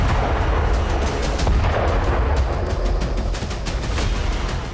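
Rapid, overlapping blasts and bursts of gunfire rumble continuously, loud and heavy, with no voices, as stored rocket launchers and drones are destroyed in a strike in the Israel-Lebanon war.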